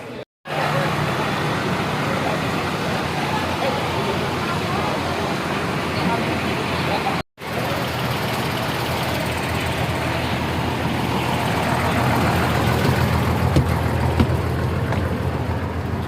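Inside a moving bus in Jakarta carrying a group to a literary performance, the engine and road noise form a steady rumbling roar, with a brief cut partway and a slight rise in level toward the end.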